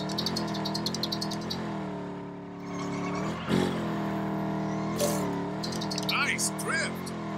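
A car engine in LEGO 2K Drive revs and whines through a drift, its pitch sweeping up and down in smooth arcs, near and continuous. A voice talks over it, and a few sharp skids and effects break in.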